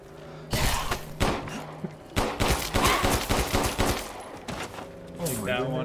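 Rapid gunfire from Resident Evil Village: loud volleys of shots in quick bursts, punctuated by heavy impacts, with a brief mechanical whir near the end.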